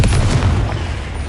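A loud, deep explosion from the Confringo spell in Hogwarts Legacy, a single heavy rumbling boom that fills the moment with no talking.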